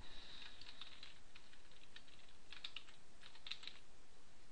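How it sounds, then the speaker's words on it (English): Typing on a computer keyboard: faint, quick runs of light key taps in a few short bursts, close by and with no talking. "I'm going to type hello world"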